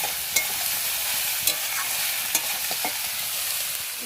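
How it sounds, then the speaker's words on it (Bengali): Soybean chunks stir-fry in a hot pan, with a loud, continuous sizzle broken by a few sharp scrapes and clacks of the spatula as they are tossed, and no voices. "সয়াবিনটা সুন্দর করে কষিয়ে রান্নাটা করে নিই"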